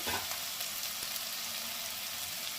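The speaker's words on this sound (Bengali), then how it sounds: "এবারে একটু ভালো করে কষে নিতে হবে।" Ground spices sizzle and crackle steadily in a hot pan while being fried for Bengali-style masoor dal bora, a dense close hiss that continues without pause and with no talking.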